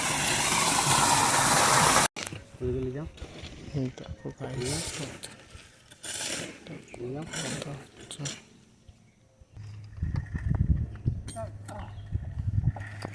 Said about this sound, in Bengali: এই পাইপ দিয়ে জল পড়ছে